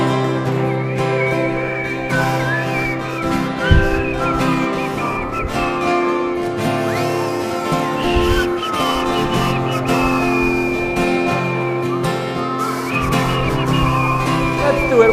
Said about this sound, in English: Need some help with the whistling.